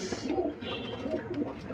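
Domestic pigeons cooing in a loft: soft, low, rolling coos repeating steadily and close by, with faint background noise and no speech.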